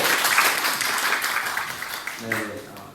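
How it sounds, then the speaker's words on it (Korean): Worshippers in a Korean church service give a round of applause, a moderate patter of many hands that thins out as a voice begins speaking near the end. "박수로"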